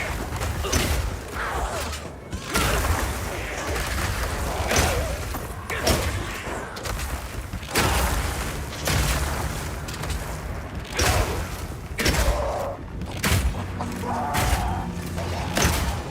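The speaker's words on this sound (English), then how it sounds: "Now I can fill up this area with ice walls, then shoot them with armor-piercing Burst Shot for a huge amount of damage" Armor-piercing Burst Shot striking ice walls in Path of Exile 2, heard as repeated booming, crunching impacts and mechanical creaks in irregular clusters, loud and close.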